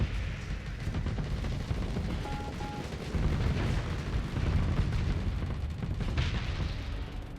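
Continuous heavy weapons fire and booming launches from a space battle in the video game Starsector, a dense rumbling barrage that swells louder midway and carries on without a break.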